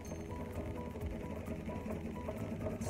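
Quiet, rhythmic rubbing of a Norwex Enviro cloth scrubbing a sauce stain out of carpet fibers, a soft repetitive scratching close by.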